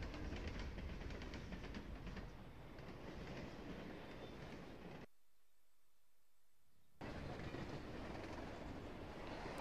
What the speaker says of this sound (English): Oh, and there's a train as well.